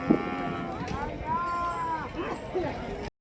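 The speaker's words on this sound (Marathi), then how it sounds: "मस्तच गाय बघा" Cow mooing at a bullock market for Khillar cattle in Sangola, a drawn-out low call rising and falling for about two seconds amid crowd chatter and someone speaking close by.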